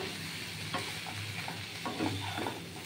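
Bhetki fish bones fry over high heat while being turned in the pan, a soft close sizzle broken by a few scraping strokes.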